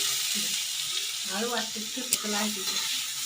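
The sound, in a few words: onions and potatoes frying for Maggi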